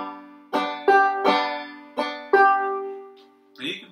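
Banjo played in a slow clawhammer bum-diddy rhythm: five ringing plucked and brushed strokes with sustained harmonic tones, played alone and clearly, followed by a softer final strum.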